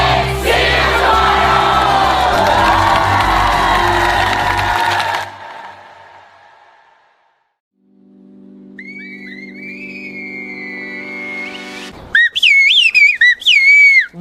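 A loud roaring swell fades to near silence, then clear high whistled phrases of a whistled language with sliding pitches ring out, getting louder and more rapid at the end.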